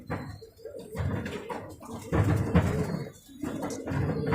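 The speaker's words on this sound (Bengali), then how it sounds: "এত পছন্দের একটা কবুতর" A pigeon coos in repeated low, throaty bursts close by, several rolling calls with short pauses between them, with faint background noise.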